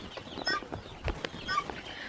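Hill-breed country chickens cluck softly in short, uneven bursts, a few nearby hens calling over faint background noise.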